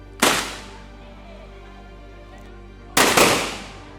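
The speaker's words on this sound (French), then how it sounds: "la nouvelle est portée au grand public par des coups de canon" Cannon shots announce a Basanga king's death: two loud, sharp booms about three seconds apart, each decaying into a rumbling tail, with near silence between them.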